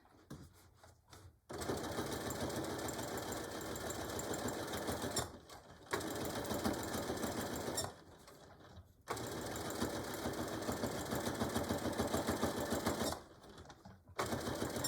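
Sewing machine stitching a straight seam on a beach or diaper bag, guided by the presser foot, runs in steady loud bursts with short pauses between them.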